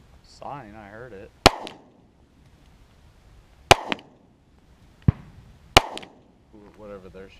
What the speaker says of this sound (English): Whatever they're shooting. Like a 50 cal or something.